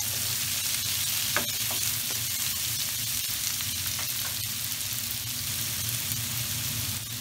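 Capsicum and onion frying in hot peanut oil in a wok: a dense, even sizzle holds throughout, with faint clicks of stirring under it.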